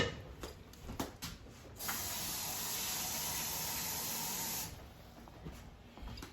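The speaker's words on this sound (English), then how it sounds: "Now we're going to add some water." Water poured into a hot, simmering pot of Mexican rice makes a loud, steady sizzling hiss lasting about three seconds, framed by quieter clinks and bubbling.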